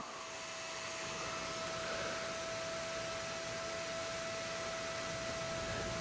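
A 12V DC brushless 40mm ball-bearing fan from SPI runs close by, making a constant loud whooshing hiss with a steady tonal hum and no pauses.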